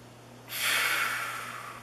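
A single long, deep breath drawn in through the nose during a Native American traditional healer's calming exercise, a steady airy rush that swells after a brief pause and holds for over a second, close and clear with no talk.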